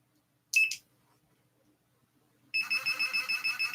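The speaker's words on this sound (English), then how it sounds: "And that's the vibration." A small alarm buzzer chirps briefly once, then after a quiet gap sounds again with a pulsing, vibrating tone, close and fairly clear.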